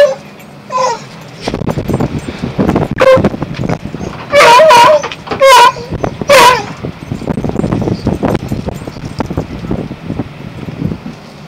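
Two beagles in a small house yip, whimper and let out high whining barks, close and loud over a busy indoor background, with several sharp cries clustered in the middle.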